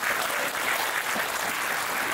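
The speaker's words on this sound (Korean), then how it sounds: "큰 박수로 맞으시기 바랍니다." Steady, dense applause from an audience welcoming a speaker at a residents' briefing, even and sustained throughout with no break.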